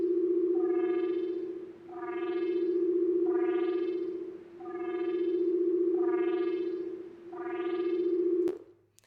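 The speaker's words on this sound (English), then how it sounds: "I made some interesting sci-fi sounds" Sci-fi sound design from a slowed Vital synthesizer layered with white noise: a steady low tone under five repeating sweeping, rising-and-falling harmonic swoops, ending in a sharp click.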